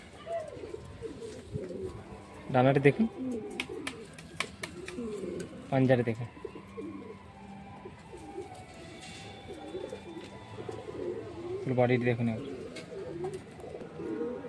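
Old Madrasi pigeons coo in a loft in three distinct bursts spaced several seconds apart, heard beneath near continuous talk from a man showing the birds.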